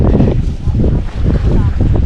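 Strong wind buffets a microphone aboard a fishing boat, with loud, close, continuous low rumbling gusts that swell and dip, mixed with faint water and engine noise.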